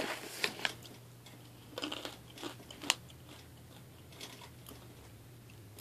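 Honey-coated toasted corn kernels are bitten and chewed up close, with a string of sharp, dry crunches in quick bursts followed by quieter chewing. The level is fairly soft and no one speaks.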